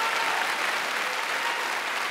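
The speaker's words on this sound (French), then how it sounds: "juste pour les applaudissements, groupez-vous, pas d'initiative personnelle" Steady, dense applause from a theatre audience at a comedy magic show, a continuous wash of clapping that holds at an even level throughout with no voices on top.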